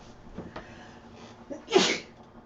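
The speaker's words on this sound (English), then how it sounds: "Oh, I feel a sneeze coming on." A single sharp sneeze bursts out near the end, preceded by a few faint breaths and small room noises.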